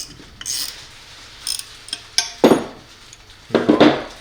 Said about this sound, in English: With your 5/32 hand tool and your 3/8 wrench, we go ahead and tighten up